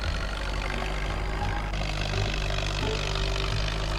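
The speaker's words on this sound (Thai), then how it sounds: "รถไถฟอร์ดเรานี้ก็ใช้ดีซะเหลือเกิน" Ford 8210 tractor engine in Farming Simulator 19, a steady low droning hum that holds level throughout without voices.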